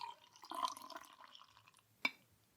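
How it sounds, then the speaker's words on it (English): Eastgate Amber Ale is poured into a Father's Day beer glass, giving soft liquid splashing and fizzing followed by a single sharp clink of glass, close and quiet. "pouring into a Father's Day glass that my son got me"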